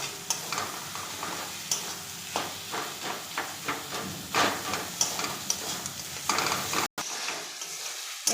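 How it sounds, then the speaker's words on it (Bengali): Crushed hilsa fish heads being stirred as they fry in oil in a pan, with repeated scraping strokes over a continuous sizzle; no one speaks. "এভাবে নেড়ে চেড়ে নিচ্ছি।"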